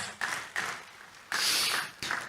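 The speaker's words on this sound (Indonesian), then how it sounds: "Tepuk tangan buat Tuhan Yesus" Short bursts of congregational clapping for Jesus during a church sermon, several separate rounds of hand claps with brief pauses, fairly close and moderately loud.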